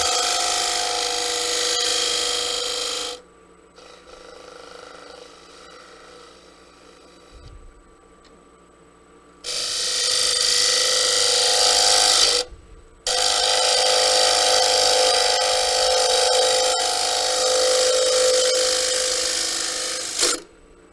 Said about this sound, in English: this is a classic push cut